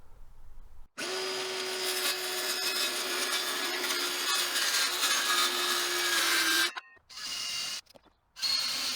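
A power saw cuts through the wooden side panel of a campervan toilet, a steady loud whining cut for several seconds that stops, then two short bursts follow after brief pauses.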